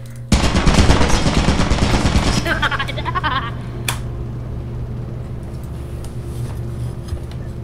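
Automatic turret in the video game Lethal Company fires a loud, rapid burst of gunfire that rattles for about two seconds, then stops, leaving a low hum and faint background noise.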